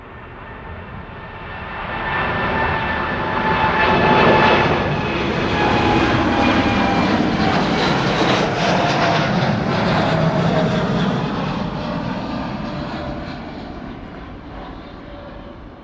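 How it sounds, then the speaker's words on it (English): An Air Europa Boeing 787 Dreamliner departing Amsterdam Schiphol for Madrid rises into a loud, steady jet roar that peaks midway and slowly fades, heard alone without talk. "It is a beautiful Dreamliner from Air Europa to Madrid."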